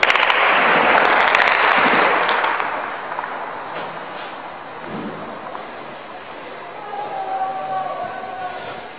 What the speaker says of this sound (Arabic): قصف عنيف على المدينة.